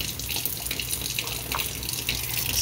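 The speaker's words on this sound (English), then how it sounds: "now I'm just going to add cold water to the top" Cold water runs from a tap into a bowl in a home kitchen, a steady close splashing stream that goes on without a break and has no voices over it.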